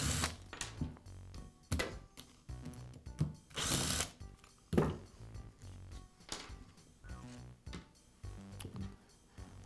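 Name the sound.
removing gearbox bolts from a Porter Cable drywall sander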